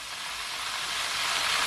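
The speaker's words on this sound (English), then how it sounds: "my chicken been frying for over 4 minutes or so" Chicken pieces fry in oil on medium heat for a crispy sandwich, giving a steady, even sizzle that holds continuously without talk.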